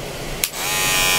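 An electric hair clipper, fresh from unboxing, switches on after a brief click and runs with a steady, close, continuous buzz that holds level to the end.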